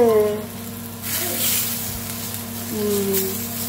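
Tawa chicken frying in an iron vada pan over a slow flame, giving a steady, close sizzle throughout with a voice talking over parts of it.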